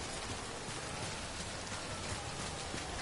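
Steady video-game rain hisses without a break, dense and even like a downpour on the ground, with no voices over it.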